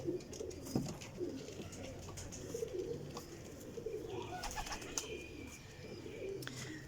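Pigeons held in a hand cooing faintly at low level amid a busy background, with soft, repeated throaty coos scattered across the clip and occasional sharper clicks and rustles.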